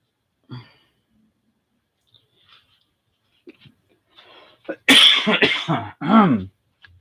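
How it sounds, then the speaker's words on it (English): A few quiet throat sounds lead up to a sudden loud, harsh cough in several bursts, followed by another strong cough close to the microphone. "Sorry about the big cough."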